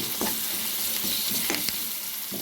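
Onion sautés in a pan with salt and turmeric for a capsicum masala curry, giving a steady close sizzle broken by a few sharp stirring scrapes.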